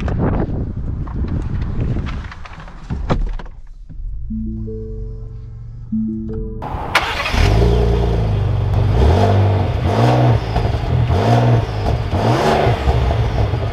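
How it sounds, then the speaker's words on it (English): A 2021 Lincoln Navigator SUV revs and accelerates hard, its engine rising in repeated loud surges up close after a quieter idling stretch. "gonna get our acceleration here with the Navigator"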